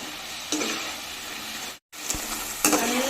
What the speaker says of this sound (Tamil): அந்த மாதிரி நல்லா கிளறிட்டு பொரிச்சு எடுத்துக்கணும்